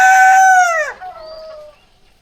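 A rooster crows once, loud and close, the call rising then sliding down over about a second before a fainter trailing tail, heard on a rooftop garden in winter with no talk over it.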